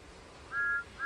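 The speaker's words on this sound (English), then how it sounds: ""Hooray for Gordon!" whistled Thomas." A whistle voiced for Thomas the Tank Engine, two short steady high tones at moderate volume over a soft background hiss.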